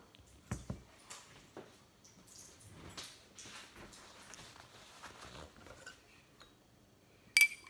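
A mixture is stirred in a small dish, soft scraping and faint clinks of a utensil against the dish, quiet and close, with a few sharper taps and a bright clink at the end, no talking.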